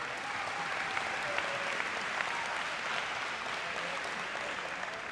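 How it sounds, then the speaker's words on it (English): Audience applause at a community celebration for a high school basketball state championship team: a steady wash of clapping from a crowd that holds evenly at moderate volume throughout. "give him a round of applause there"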